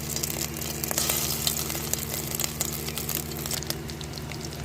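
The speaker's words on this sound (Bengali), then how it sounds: "এবার আমি ভাপিয়ে রাখা ডিমগুলো ভেজে নেব।" Steamed eggs fry in hot oil in a wok, giving a steady, fairly loud broadband sizzle with small crackling pops throughout, over a low background hum, with no talking.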